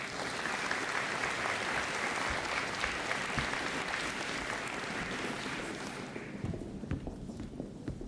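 A crowd of graduates' families applauds at a college end-of-studies ceremony, a thick, even clatter of many clapping hands filling the hall, tapering off in the final seconds.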